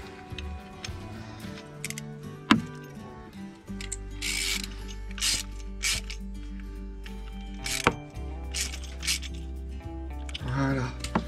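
A ratchet tightens a fitting on a diesel heater setup with repeated short clicking pawl strokes and metallic taps, close up, under a low steady background hum.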